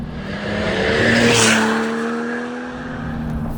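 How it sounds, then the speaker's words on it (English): A RUF Rodeo sports car engine revs up loudly, rising to a roaring peak and then settling into a sustained drone as it drives on. "when you unleash the engine, it just roars back on its haunches"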